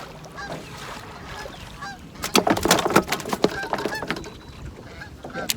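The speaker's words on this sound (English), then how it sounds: "Got the geese coming by." Geese honk repeatedly as a flock flies past a fishing cove, a burst of loud overlapping calls building midway and continuing in scattered honks over faint open-air background.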